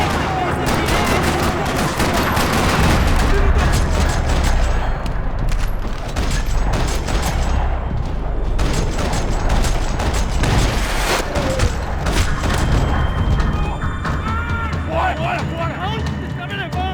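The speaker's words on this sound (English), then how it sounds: "Another parking lot rattling with gunfire." Gunfire rattles through a parking lot in Max Payne 3 as dense, continuous bursts of automatic and single shots, loud and close, with booms mixed in and voices speaking over the fight.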